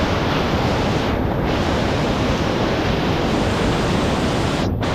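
Heavy floodwater after intense rains rushes in a steady, dense roar that fills the whole scene, loud and unbroken, with wind buffeting the microphone and no voices.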